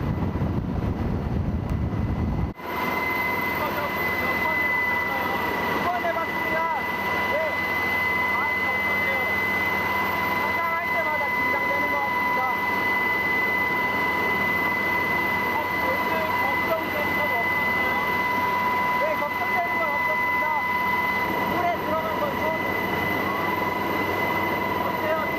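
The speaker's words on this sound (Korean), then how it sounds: "대기 중인 헬기의 프로펠러는 초속 70m와 맞먹는 강풍을 일으키기 때문에" An Air Force rescue helicopter hovers over the sea during a hoist rescue drill. Its rotors and engine make a loud, unbroken roar with a steady whine throughout, and faint voices come through underneath.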